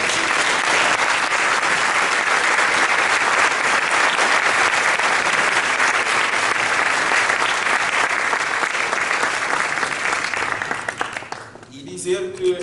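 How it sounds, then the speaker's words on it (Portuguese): Loud, sustained applause from a conference audience at a closing session, dense steady clapping for about eleven seconds before it thins out and stops. "Eu gostaria que vocês dessem uma salva de palmas muito forte."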